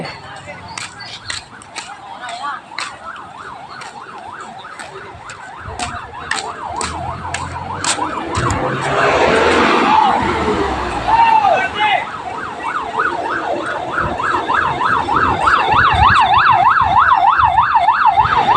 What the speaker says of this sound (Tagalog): Nandiyan na yung bumbero.